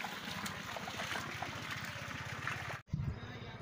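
Fast rainwater runoff rushes through a pipe laid under a highway road after a brief rain, a steady close roar of flowing water with a brief dropout near the end.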